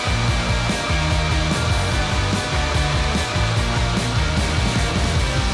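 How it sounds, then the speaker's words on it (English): A garden vacuum blower pushes air in a loud, constant roar, used outdoors to blow light husks off roasted nuts poured from a baking tray, a dense unbroken rush with a throbbing motor rhythm. "You will need a garden vacuum cleaner for this."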